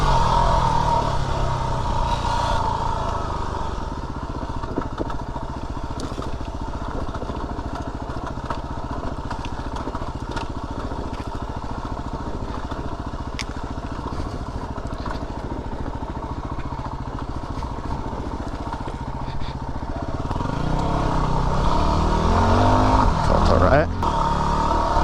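A Yamaha WR250R motorcycle hums steadily as it is ridden, a constant engine drone under a rider's talk, swelling slightly near the end.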